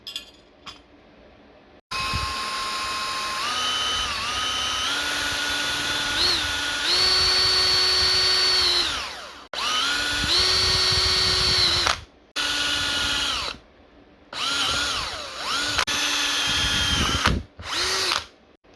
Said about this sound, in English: the screw doesn't fit, so I need to drill it out